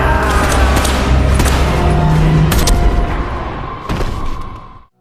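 Loud, dense gunfire rattles continuously in rapid bursts, then cuts off abruptly.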